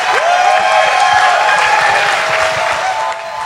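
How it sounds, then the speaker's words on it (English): Audience at an outdoor Fleet Week waterfront event applauds loudly and steadily, dense claps with a few cheers mixed in, fading slightly toward the end. "How about a round of applause?"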